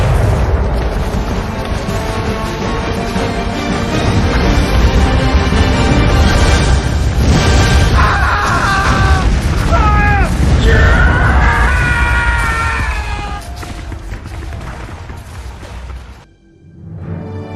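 Cartoon battle sound effects with mouthwash bombs exploding, a dense, loud wash of booms, bursts and rising whistling tones over music, dropping away near the end.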